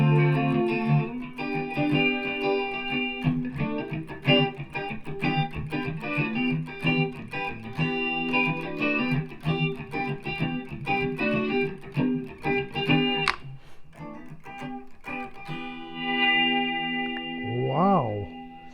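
A Les Paul electric guitar played through Positive Grid Bias FX 2 effects rings out in strummed and picked chords with chorus and distortion, moderately loud and sustained, pausing briefly near the end.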